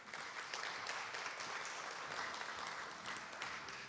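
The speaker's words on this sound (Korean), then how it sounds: "박수로 맞이해 주십시오." Quiet, distant applause from the audience at Korea University's founding anniversary ceremony as the alumni association president goes up to the stage, steady clapping throughout with no talk over it.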